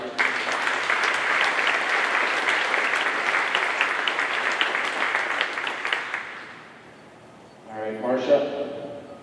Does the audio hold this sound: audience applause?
yes